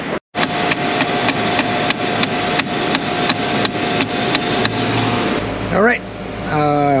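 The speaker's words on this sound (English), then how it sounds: "whacking it with a pry bar, as you saw, lowered the idle" A pry bar repeatedly whacks a car engine part, likely a sticking idle control motor, with sharp metallic strikes in a steady rhythm over a running engine's idle. The strikes stop near the end, when a voice briefly speaks.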